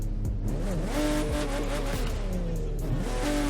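A Porsche 911 3.6 Turbo with an RWB build in the racing game The Crew 2 revs loudly and up close, its engine note rising and falling through several sweeps with a brief tire squeal.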